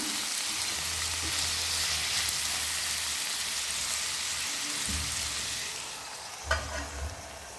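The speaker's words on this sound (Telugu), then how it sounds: "ఒకసారి అయితే కలుపుకొని మరొక 2 నిమిషాలు ఈ కూర అయితే మనం ఉడికించుకుందాము" Mutton kheema curry with tomato pieces sizzles and fries steadily in a pan, a constant crackling hiss broken by a few stirring scrapes and clanks near the end.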